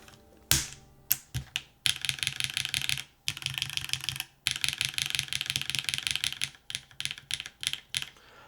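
Steady, close typing on a full-size Touchstone mechanical keyboard fitted with HMX switches. The key clacks come in dense runs broken by brief pauses, with no voices.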